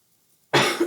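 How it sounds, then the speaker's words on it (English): A single sharp cough from a woman with allergies, bursting out loud and close after near silence and lasting about half a second. "I'm going to try not to cough through your entire reading"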